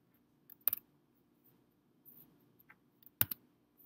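A computer keyboard is tapped sparsely during school assessment software work: a few isolated keystrokes, two sharper clicks standing out among fainter taps, close but quiet, with no talking.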